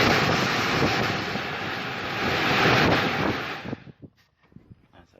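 Repaired car blower motor running with a steady, loud broadband whoosh of rushing air that cuts off abruptly near the end, leaving faint clicks and handling sounds.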